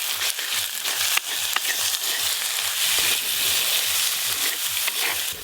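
Chopped tomato with cumin, coriander, chilli and turmeric powders and salt sizzles in a hot pan, a dense steady frying hiss broken by quick scraping stir strokes in a regular rhythm, close and alone.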